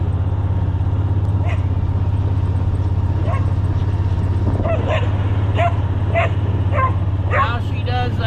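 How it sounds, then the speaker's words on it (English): A farm dog barking and yipping excitedly during morning cattle feeding chores in snowy barn country, several sharp yips and short barks scattered over a loud constant engine drone from a nearby truck. "check out this crazy dog"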